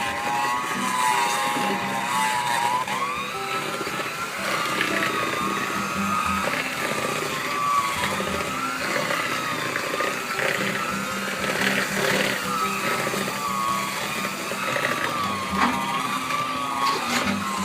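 An electric mixer blends cookie dough, with a steady, loud motor whir and continuous churning that runs unbroken throughout and wavers slightly in pitch as the beaters work.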